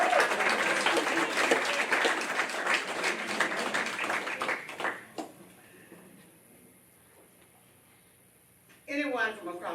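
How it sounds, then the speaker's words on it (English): Crowd applause at a candidate forum in Pine Bluff fills the first half loudly, then cuts off to near quiet before a voice begins speaking near the end. "So let's give a big round of applause."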